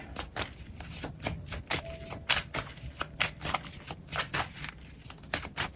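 Tarot cards shuffled and drawn by hand, with quick irregular riffling flicks and soft snaps repeating close by in a quiet room.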